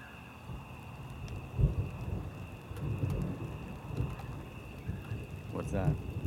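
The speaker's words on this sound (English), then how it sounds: "Thunder." Low rumbling thunder rolls through a rainstorm with steady rain and faint hiss behind it, the rumble rising and falling over several seconds at a moderate distance, with some voices faintly in the background.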